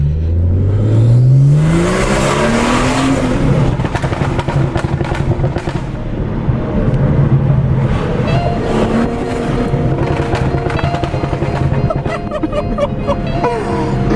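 A BMW F30 340i with a Bootmod3 stage 2 tune revs loudly and close up, then settles into a continuous rumbling exhaust note broken by crackling, popping burble throughout.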